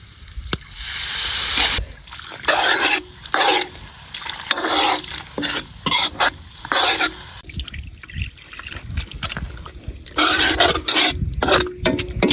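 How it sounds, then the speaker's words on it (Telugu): Water pours and splashes steadily into a pot of boti curry cooking outdoors in a village, with a loud, continuous gush in repeated bursts over about twelve seconds. "వీటికి మనకు కొంచెం సూప్ కావాలి, కొన్ని వాటర్ అయితే పోసుకుందాం."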